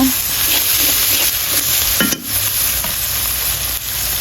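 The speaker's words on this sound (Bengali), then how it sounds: "এখন আমি দিয়ে দিব রসুন বাটা, জিরা বাটা," Garlic paste and cumin paste sizzle steadily in a hot pan while being stirred for a beef tongue bhuna. The frying is close and continuous, with occasional scraping stir strokes and no talking.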